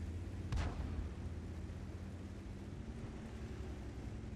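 A tank gun fires once in a video game, a single faint boom near the start trailing into a low, steady rumble of background game noise.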